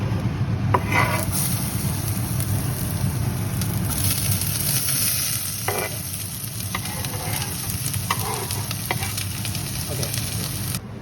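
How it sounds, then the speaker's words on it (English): Garlic and onions saute in a pan with a continuous close sizzle, broken by intermittent stirring scrapes and utensil clatter, and no one speaks. "we're gonna be sauteing the garlic and the onions"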